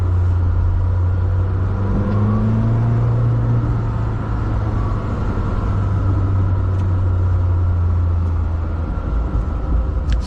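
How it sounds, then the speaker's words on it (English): Deep, loud rumble of a Lamborghini Temerario V8 engine and exhaust with cylinder-on-demand, on an Indian road, holding a steady low drone with slight pitch shifts, close and dominant throughout. "Sir, what do you think about the sound?"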